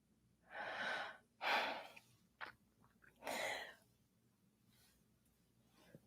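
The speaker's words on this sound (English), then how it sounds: "It's like the yawn that won't stop." A long, drawn-out yawn comes as several breathy, airy exhalations close up, with two big swells early on and a third after a short pause, then fades into quiet breathing.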